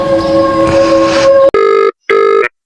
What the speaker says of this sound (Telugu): ఫోన్ ఎవరు ఎత్తట్లేదు